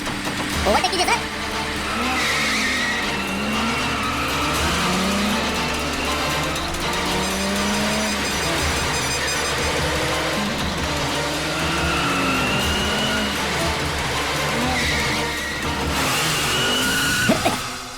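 Car chase scene from a Hindi-dubbed South Indian action film, with a car overtaking at speed as engines roar and tires squeal and skid, loud and continuous under music and shouted dialogue.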